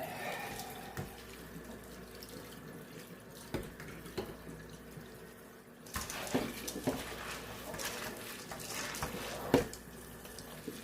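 A kitchen tap runs steadily while cow corn is washed, the flowing water growing louder and more splashy partway through as grains are rinsed under the stream.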